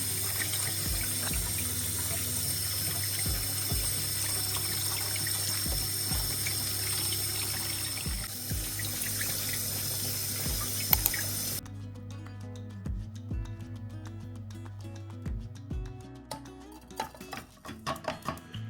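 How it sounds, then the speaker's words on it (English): Water runs steadily through a strainer as grains are rinsed, a continuous splashing hiss that cuts off, leaving scattered drips and clinks. "Rinse and strain the quinoa again."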